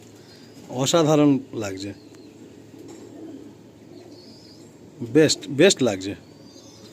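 Pigeons cooing in a loft, a soft low burbling that runs faintly under two bursts of nearby conversation.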